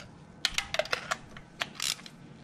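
Socket wrench snugging car spark plugs into the engine, a quick series of sharp metallic clicks and ratchet ticks, close and fairly quiet, irregularly spaced.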